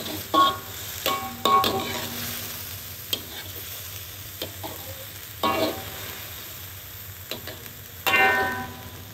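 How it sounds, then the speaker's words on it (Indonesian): MSG seasoning is stirred into vegetables frying in a pan for a home-cooked dinner, producing a steady soft sizzle broken by scraping clicks and knocks of a spatula at irregular intervals. Nobody speaks. "Masukkan ajinomoto. Dan kita gaul-gaulkan."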